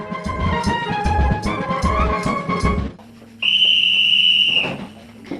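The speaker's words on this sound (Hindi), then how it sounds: "ठीक 10 बजे की सीटी ऐलान करती है सोने के वक्त का।" At an army training camp, a sustained shrill whistle sounds for about a second and a half as the bedtime signal, loud and steady, following a few seconds of louder mixed ambient sound and then cutting off.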